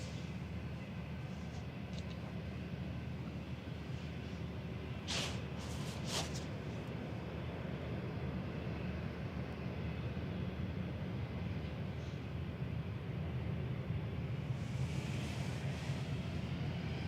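Singapore Airlines Airbus A350-900 touching down at Manchester Airport on New Year's Day, a steady broad jet roar with a few sharp clicks early on and rising hiss near the end, no voices.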